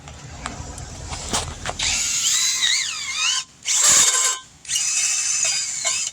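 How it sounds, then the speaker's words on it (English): A power drill lapping engine valves whines at close range, its pitch rising and falling as it spins in bursts separated by brief pauses. "now take the drill. Make sure it's spinning this way to get open."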